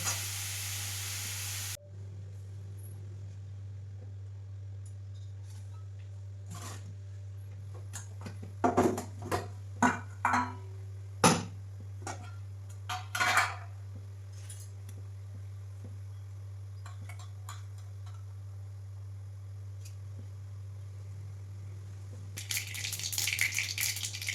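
Mustard seeds splutter in hot oil while tempering a paneer curry. Quiet, scattered pops and crackles cluster midway over a steady low hum, with a faint hiss at the end.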